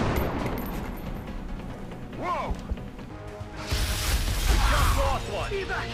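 Gunfire and impacts in the XCOM turn-based strategy video game, with bursts, crashes and whooshing effects in a busy mix under a talking player.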